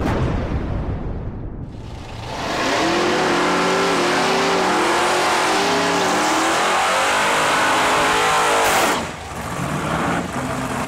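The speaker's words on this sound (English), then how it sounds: "Burnouts are all done." Drag racing cars at Lapeer International Dragway, a Ford against a Chevy, roar through burnouts with loud sustained engine revving and tire noise that swells after a brief dip and holds steady, then drops off near the end.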